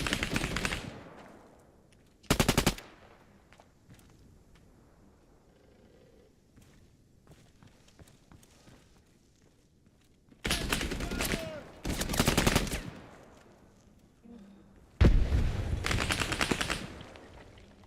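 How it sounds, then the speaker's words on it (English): Bursts of automatic gunfire in ARMA 3 during an attack on an airport: a long rattling volley at the start, a short burst, then several sustained loud bursts later, with quieter gaps between. "Ostrzał nieprzyjaciela!"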